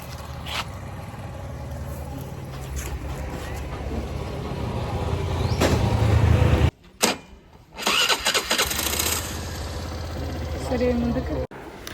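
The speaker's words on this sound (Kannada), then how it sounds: "ಹೊಂಟೇವು ನೋಡ್ರಿ ಗಾಡಿ ಸ್ಟಾರ್ಟ್ ಆಯಿತು" A car engine cranks and turns over, settling into a rumbling idle with a brief cutout, people talking over it nearby.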